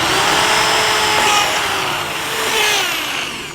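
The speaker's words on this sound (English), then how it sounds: "It is like melting the track as it goes through." A plug remover tool whines steadily and loudly up close, with a rough grinding edge as it melts through a rubber Camso Cobra snowmobile track.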